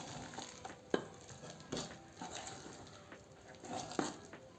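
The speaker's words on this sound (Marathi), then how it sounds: "आणि चांगले मिक्स करून घेऊ" Rice and urad dal appe batter is mixed in a bowl, soft wet swishing with a few sharper taps of the spoon against the rim, quiet and close, no talking.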